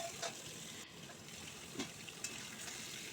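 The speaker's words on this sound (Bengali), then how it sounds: "তেলটা গরম হলে আমি মাংসের আলুগুলো দিয়ে দিলাম।" Large halved potatoes frying in hot oil at the start of a chicken curry, a faint continuous sizzle and hiss with a few brief pops and spatters, heard close and without talk.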